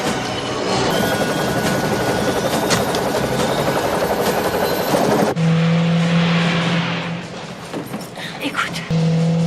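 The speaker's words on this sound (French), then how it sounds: "Y a l'hélico qui vient!" A helicopter approaches with a loud, steady rotor drone and engine whine that holds for several seconds, then shifts in tone as it nears; no speech rises clearly above it.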